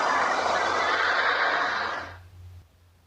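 A monster from the Monster Hunter game lets out a loud, sustained rasping roar lasting about two seconds, then cuts off into a low fading rumble.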